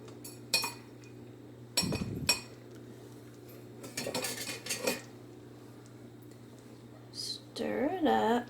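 Whisk clinking and scraping against a crockpot while stirring chicken tortilla soup with melted cheese, faint intermittent metallic taps and swishes in a quiet kitchen.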